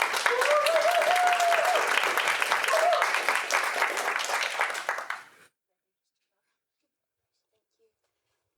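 Audience applause greets Warwick Fencing students at a student members' meeting, a dense clapping with a voice briefly audible over it, fading out after about five seconds into silence.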